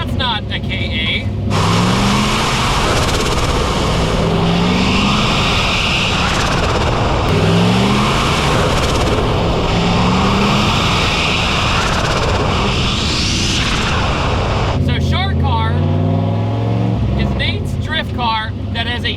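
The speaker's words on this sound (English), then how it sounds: "Car that has a 6-liter engine from a Farmtruck" Nissan 240SX fitted with a turbocharged 6-liter truck engine revs and drives, a loud, rough engine roar with rising and falling pitch sweeps as it accelerates, continuous and close for the full stretch.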